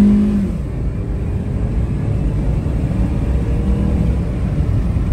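A 2004 Honda Element engine with a freshly repaired VTEC solenoid revs up and holds a steady, loud rumbling drone for several seconds, close to the microphone with no talking.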